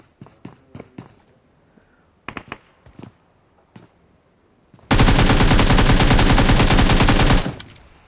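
Gunfire in the mobile battle royale game BGMI (PUBG Mobile): scattered single shots and short bursts, then a loud, sustained automatic burst lasting a few seconds at close range before cutting off.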